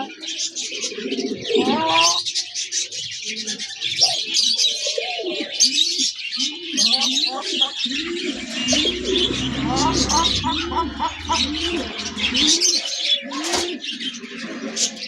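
Pigeons, including Capuchine and black breeds, coo in repeated soft throaty phrases at a bird shop, alongside scattered chirps and fluttering nearby while someone talks over them.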